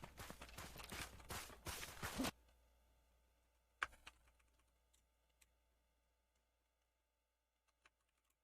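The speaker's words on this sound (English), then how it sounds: "I'm typing all these out" A computer keyboard clatters in a quick flurry of keystrokes that stops abruptly after about two seconds, followed by a few isolated, faint key taps against near silence.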